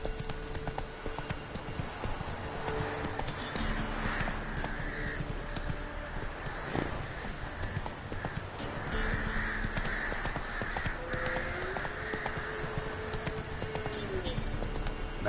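Roach the horse gallops in The Witcher 3, a steady run of hoofbeats lasting throughout over a backdrop of game ambience with faint bird calls.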